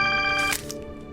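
A telephone rings indoors in a dramatic TV serial scene, a bright repeating electronic ring tone that cuts off partway, with no talk over it.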